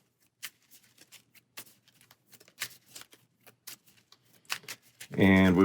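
An Arkham Horror card game deck is shuffled by hand, giving soft, irregular flicks and patters of cards close by, followed by a sudden loud, sustained sound at the end.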